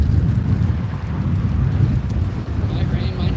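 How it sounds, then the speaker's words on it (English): Wind gusts buffet the microphone outdoors with a steady low roar, broad and close, while a light rain sprinkles faintly underneath; a few brief high tones surface near the end. "It's definitely sprinkling right now and blowing."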